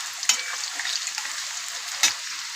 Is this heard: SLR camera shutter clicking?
no